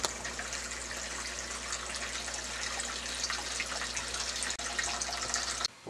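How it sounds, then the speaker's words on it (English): Water is siphoned out of a hydroponic tub of old nutrient solution, a steady, close hiss and gush of flowing water that runs without pause until it cuts off abruptly at the end. "I'll start up a siphon. And siphon all that water right out of there."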